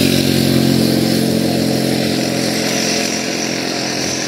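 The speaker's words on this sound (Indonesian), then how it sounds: "Suara geraji mesin." A chainsaw cutting teak wood in a forest drones steadily at high revs, loud and continuous throughout, with no voices.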